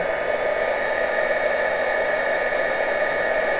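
A heat gun melts embossing powder on boho dangle earrings with gold backs, giving a steady, loud, continuous blowing whir with no break for its whole length.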